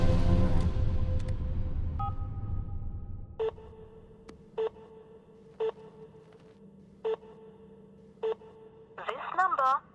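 Telephone dialing on a phone line, heard as a series of five or six short, evenly spaced tones after a loud opening burst of sound, ending in a warbling electronic signal.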